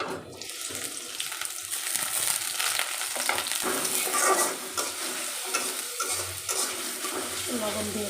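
Onions fry in a pan in a home kitchen. A hissing sizzle runs under busy scraping and stirring, with watery splashes and a low hum near the end.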